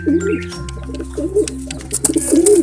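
Pigeons in a loft coo close by, with a few rounded, rolling calls recurring every second or so over a low steady background hum.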